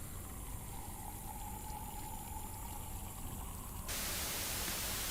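Static bursts on as a television switches itself on in a horror video game, a sudden loud wash of hiss that takes over from a quieter hum and tone.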